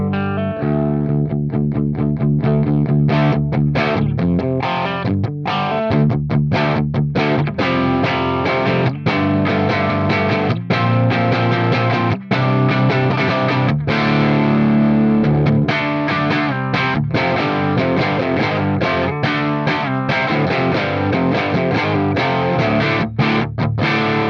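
Electric guitar through a Crab Brown Eye amp with the volume at about halfway plays a dense, continuous distorted riff, loud and close with occasional sharp picked attacks and brief stops.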